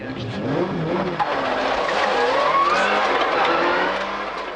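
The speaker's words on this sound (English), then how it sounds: "So, let loose in Colin McRae's 300 horsepower World Rally car" A 1997 Subaru Impreza World Rally car with 300 horsepower drives hard, its engine loud and close with rising and falling revs and a brief tyre squeal under the steady roar.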